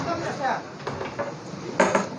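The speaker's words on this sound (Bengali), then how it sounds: "বড় খুন্তি দিয়ে বড় এত বড় যত বড় কড়াই ঠিক তত বড়ই খুন্তি এই নাড়ানাড়ি চলছে" A large spatula scrapes and clanks around a huge wok of dal and khichuri being cooked for a big birthday celebration feast, giving several metallic scrapes and knocks up close.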